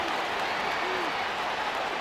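Steady, roaring stadium crowd in a Madden 26 football game, a Ravens vs. Bills Sunday night matchup, swelling noisily near the red zone on third down, with no commentary in this stretch.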